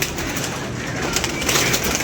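A pigeon coos close by in a soft, repeated throaty rolling call, set over a steady background hum.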